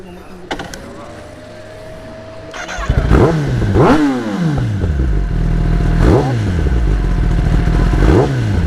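Motorcycle engine at a bike club meetup: after a starter whine it fires up loudly and revs repeatedly in rising and falling sweeps, close to the listener.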